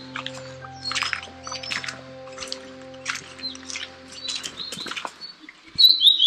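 A bird in the Pampadum Shola forest near Munnar flutters and chirps, with sharp high calls and brief wingbeats over a faint low hum; a louder whistled call rises near the end.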